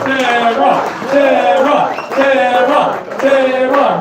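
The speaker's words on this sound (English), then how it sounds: "Start clapping it up for our buddy, Tehran." A comedy club audience at the Laugh Factory cheers and whoops loudly in repeated surging waves, a dense crowd roar with shouts rising and falling, but distinct hand clapping is hard to pick out.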